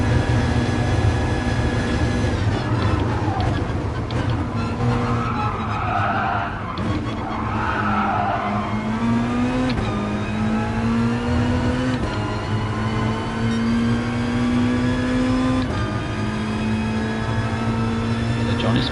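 A V8 Ford Mustang race car of about 5 litres in Gran Turismo Sport, a loud droning engine note rising through the gears with shifts, while a commentator talks over it.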